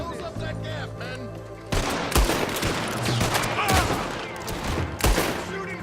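Gunfire crackles through a Red Dead Redemption 2 shootout, scattered sharp reports and volleys over ambient battle noise, with some voices talking in the mix.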